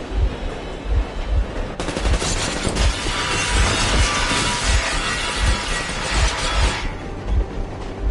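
A locomotive engine in the video game Metro Exodus runs with a steady, rhythmic heavy thumping, and a loud hissing rush rises over it midway before easing off.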